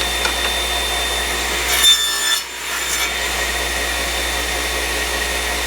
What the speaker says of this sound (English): tighten that up, and now I'm cutting 45 degrees